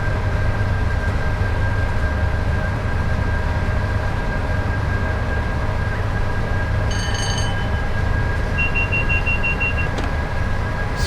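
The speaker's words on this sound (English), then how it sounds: "The sound set on those Mark IIs is incredible." Class 86 electric locomotive hauling Mark 2 F coaches in a train simulator, a steady loud rumble of wheels and traction with a constant whine, brief tonal beeps near the end, no talking.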